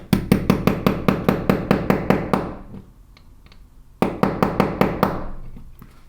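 Rapid, sharp metallic taps of a hammer on a pin remover driving pins from a metal watch band, in two quick bursts of about ten strikes each, separated by a short pause, close and loud.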